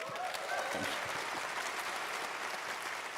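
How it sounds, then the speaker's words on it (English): A crowd at the opening ceremony of Ropecon 2025 in Finland applauds continuously, a fairly quiet but dense spread of clapping, with a voice briefly audible underneath early on. "To be fair, that was a fairly cheap applause."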